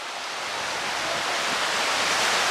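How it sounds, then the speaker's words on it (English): Strong wind buffeting the microphone on a beach, a dense, steady roar of broadband rushing noise that slowly builds in loudness, with no voices. "I know it's very, very windy right now"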